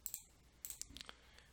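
Quiet computer mouse clicks, a few sharp little ticks in close succession, heard up close against faint background hiss.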